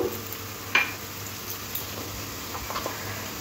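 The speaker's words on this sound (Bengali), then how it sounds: "আদা রসুন বাটাটা কাঁচা গন্ধ যাওয়া অবধি ভাজতে হবে।" Ginger garlic paste fries in a pan for okra do piyaja, giving a steady soft sizzle with a few brief stirring clicks and ticks, heard alone and close.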